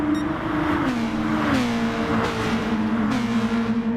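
Race cars of about 246 horsepower in the video game Gran Turismo Sport, a loud, continuous engine drone whose pitch climbs and drops with gear shifts, heard alone.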